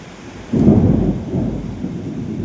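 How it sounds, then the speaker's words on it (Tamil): A thunderstorm: a sudden deep rumble of thunder breaks in and rolls on under steady rain, loud and fairly close, with no voices. "பாருங்க ஃப்ரெண்ட்ஸ் எப்படி வந்து இடி மழை"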